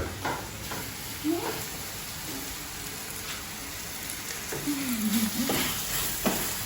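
Food sizzles and crackles steadily in a pan nearby in a restaurant kitchen in Cambodia, a bright hissing spatter, with faint voices now and then in the background.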